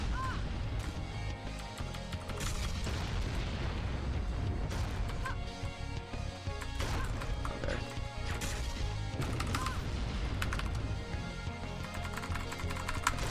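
Devastator weapon shots and explosions ring out during a boss fight in the Iji video game, a constant loud barrage of crashes and booms layered over game music.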